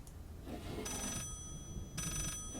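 A faint telephone bell rings twice in short trilling bursts inside the eerie house of Layers of Fear, set against a dull low background drone.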